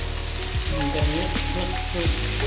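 Food stirred and mixed in a frying pan after black pepper and cayenne are added, with a steady sizzle under a few scraping strokes of the utensil.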